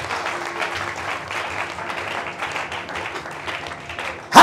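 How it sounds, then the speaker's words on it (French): Moderate rhythmic clapping from a church congregation during a sermon, steady and fairly close, with a louder burst at the end. "Applaudissons."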